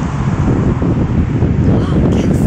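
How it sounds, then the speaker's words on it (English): Strong wind gusting through a park in Singapore, a loud, rough rumble of wind buffeting the microphone, with people talking under and over it. "And the wind is so strong and so nice."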